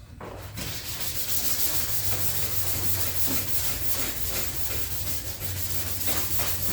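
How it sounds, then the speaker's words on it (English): Continuous rough sanding on the hood of a 2018 Fiat 500X, steady back-and-forth scraping with no talking, close and fairly even in loudness throughout. "let's go ahead and we'll get into sanding this"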